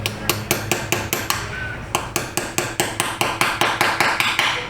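Sharp, steady hammer blows drive a 5/32 straight flute extractor into a broken exhaust manifold bolt on a 2020 GMC 2500HD 6.6, about twenty ringing metallic strikes at a regular pace, close and loud, with a brief pause partway.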